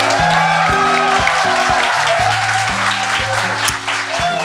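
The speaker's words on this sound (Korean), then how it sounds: "제가 제정신이 아닌 것처럼 박수를 치라고 했는데 매우 만족스럽습니다" Studio audience at a Korean talk show clapping enthusiastically, a dense, loud burst of applause that runs steadily throughout, with a steady musical tone sounding underneath.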